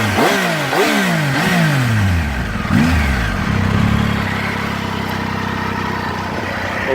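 A Triumph Tiger 800XCa motorcycle engine revs sharply several times in quick rising bursts, then settles into a steady, throaty idle, loud and close.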